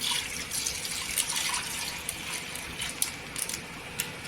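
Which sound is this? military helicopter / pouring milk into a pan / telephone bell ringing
pouring milk into a pan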